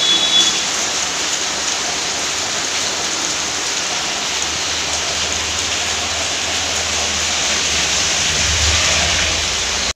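Heavy rain pours steadily and loudly, a dense unbroken hiss of water drumming on surfaces close by, continuous throughout with no voices.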